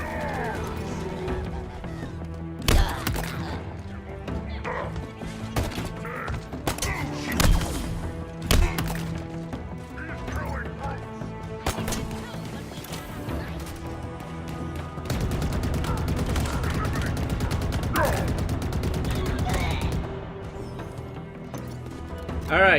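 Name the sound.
hijacked shade turret firing in Halo Infinite video game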